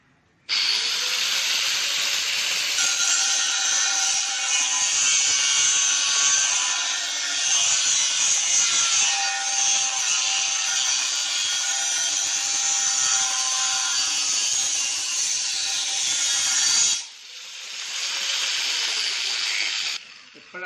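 An angle grinder cuts with a continuous, high-pitched whine for about seventeen seconds, drops off briefly, then whirs up again for a short second run before stopping.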